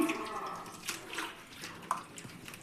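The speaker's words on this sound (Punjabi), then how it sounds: "ਇਹਨਾਂ ਨੂੰ ਹੁਣ ਆਪਾਂ ਚੰਗੀ ਤਰ੍ਹਾਂ ਮਿਲਾ ਦੇਵਾਂਗੇ ਤਾਂ ਜੋ ਆਲੂਆਂ ਵਿੱਚ ਜੋ ਵੀ ਸਟਾਰਚ ਹੈ ਸਾਰਾ ਨਿਕਲ ਜਾਵੇ" Potato slices for homemade chips are stirred by hand in a bowl of water, giving a short run of soft sloshing and splashing with a few brief drips, close by and alone.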